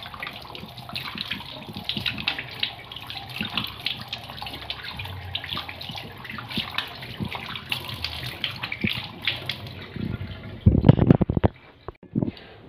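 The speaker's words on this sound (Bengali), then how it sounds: "তো চলো ধুয়ে নিই হাতটা।" Running tap water pours steadily as hands are washed beneath it, a continuous splashing wash with a louder gush of water and handling near the end.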